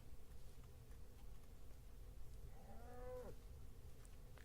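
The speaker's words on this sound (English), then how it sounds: "Cows sound weird, man. At least in this version of Minecraft." A cow in the Minecraft video game gives a single drawn-out, slightly odd moo over a constant low background hum, with faint buzzing from bees nearby.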